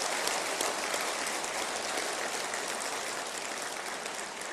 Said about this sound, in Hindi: एक बार उनके लिए भी ताली बजाएं